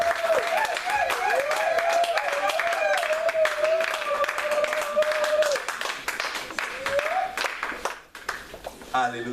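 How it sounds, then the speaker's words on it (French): A church congregation applauds and cheers for God during a service, dense continuous clapping from a large crowd with a sustained vocal tone over it, tapering off near the end. "On acclame très très fort notre Dieu."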